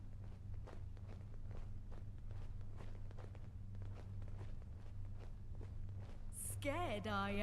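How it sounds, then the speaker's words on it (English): Steady footsteps in a horror video game set in London, a long run of evenly spaced steps over a low droning hum, with a voice breaking in near the end. "Everything's starting to sound like footsteps."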